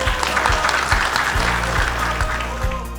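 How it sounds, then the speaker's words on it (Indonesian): Steady, dense applause fills a graduation ceremony hall, many hands clapping continuously at an even level throughout, with no voices standing out over it. "Tepuk tangan dulu."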